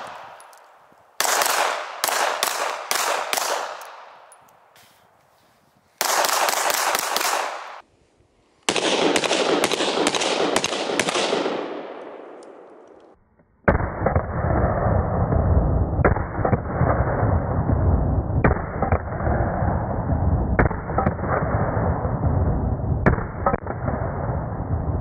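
Rapid bursts of gunfire from an Alien gun, a few short volleys separated by pauses, then a long run of near-continuous loud automatic fire with only brief breaks.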